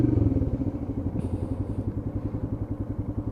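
A Royal Enfield Himalayan 400cc adventure motorcycle on the move, its single-cylinder engine pulsing in a steady, close, throbbing rhythm, with a brief high whine partway through as the gears change.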